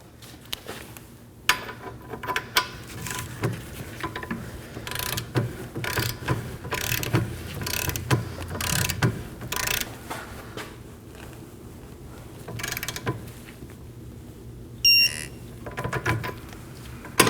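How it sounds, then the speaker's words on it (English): A torque wrench tightens a rear brake bolt on a 2011-2016 Kia Optima, with repeated ratcheting clicks and mechanical clatter in irregular bursts, close and moderately loud, ending in a sharp click. "we're gonna torque it to 115 foot-pounds"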